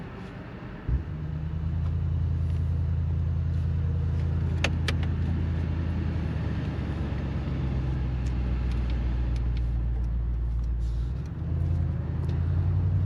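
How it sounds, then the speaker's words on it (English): A deep V8 engine, a handcrafted unit in a 2025 Mercedes-AMG SUV, starts up and rumbles steadily with a low, powerful drone, heard close by, then briefly dips and returns. "Hold down the downshift, the brakes, to hear that V8 sound experience."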